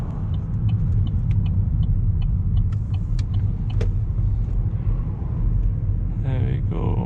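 Interior cabin sound of a 2013 Vauxhall Astra 1.4 SRi accelerating on country roads: a steady, loud low engine and road rumble throughout, with faint light clicks and a brief rising whine near the end.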